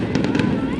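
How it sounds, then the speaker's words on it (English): Fireworks burst in a loud, close rapid cluster of several crackling bangs at the 2017 Oshkosh display, with a voice mixed in. "that was it for the fireworks"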